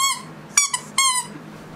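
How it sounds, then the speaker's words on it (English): A dog squeezes a squeaky toy, giving a few short, sharp, high squeaks in quick bursts, fairly close and alone. "My dog is literally squeaking his toy."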